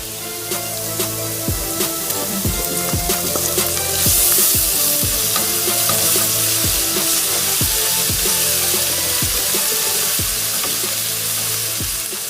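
Garlic salt, turmeric and pepper sizzling steadily in a hot pan, a loud continuous fry with intermittent stirring clicks and scrapes close by.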